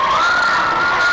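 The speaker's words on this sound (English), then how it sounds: "there's a very big crowd here for Columbia City" A large crowd of fans fills a high-school gym during a boys varsity basketball game between Carroll and Columbia City. The cheering makes a dense, loud, unbroken roar with a faint sustained tone running through it.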